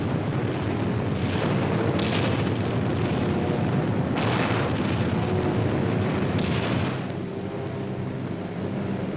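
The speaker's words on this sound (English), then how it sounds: "This B-26 drops a stick of 16 250-pound instantaneous general-purpose bombs on enemy beachhead installations" Rumbling, booming blasts from 250-pound general-purpose bombs dropped by a B-26 bursting on beachhead installations at Normandy, heavy continuous roar with several distinct surges, as on old wartime film.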